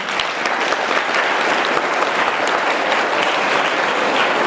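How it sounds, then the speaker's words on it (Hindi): Students at a school function applaud their teachers and parents. Many hands clap continuously and evenly for several seconds, with crisp individual claps audible within the dense crowd sound. "एक बारी अपने टीचर्स और अपने माँ बाप के लिए तालियां बजा दो"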